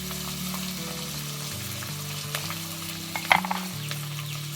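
Turmeric, chili powder and salt fry in a pan for a Bengali fish head curry, giving a steady close sizzle with a brief stirring clatter near the end and no talk.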